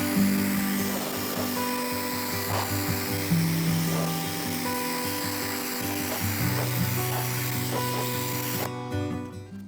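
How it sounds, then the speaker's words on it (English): A cheap electric pressure washer sprays a surface at close range, a steady loud hiss of water over a humming motor tone that cuts off near the end. "Compared to gas pressure washers, this is very, very, very quiet."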